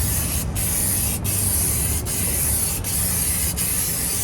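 A spray gun coats a worn Tesla Model X leather seat with paint in a steady, continuous hiss, broken by short regular pauses between passes, close and alone with no talk.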